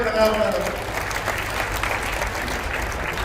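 A crowd claps loudly and steadily at a victory rally attended by the Chief Minister in Pandharpur. Dense applause fills the whole stretch, with a voice over a loudspeaker briefly at the start.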